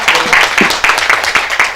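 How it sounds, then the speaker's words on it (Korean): At a Democratic Party expanded executive meeting, a room applauds newly introduced committee chairs. The clapping is loud and dense, a continuous crackling burst lasting nearly two seconds. "큰 박수로 환영해 주시기 바랍니다"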